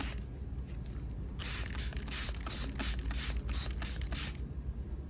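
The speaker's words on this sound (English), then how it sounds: "I spray the solution evenly over the whole Anthurium, from the leaves and stems down to the root area" A milk nutrient solution is sprayed as a fine mist over an Anthurium plant, heard as a rapid series of short, close spray bursts with soft mechanical clicks from the trigger, and no talking.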